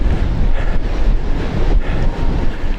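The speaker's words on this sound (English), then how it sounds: "The wind is so strong." Strong wind roars and buffets the microphone continuously during an outdoor bike ride near a quarry on Caradon moor, a loud, dense rumble with no speech.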